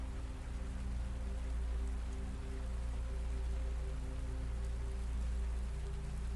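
Steady rain falls in an even, continuous hiss with a low rumbling undertone, unbroken throughout and heard alone.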